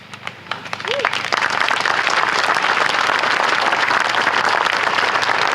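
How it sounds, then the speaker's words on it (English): A walk's crowd at Borderland State Park breaks into loud, sustained applause for its top team, rising from scattered claps into dense clapping that continues to the end, with a brief voice early on. "I'd like to give a great warm round of applause to our top team who will lead our walk today, Doing It for Dennis."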